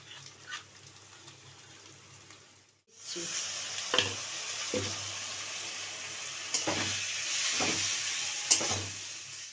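Ground cumin, coriander, cloves and turmeric sizzle in a hot pan for a potato and egg biryani, a steady close frying hiss with a few sharp clinks of a spoon stirring, quieter at first before swelling louder.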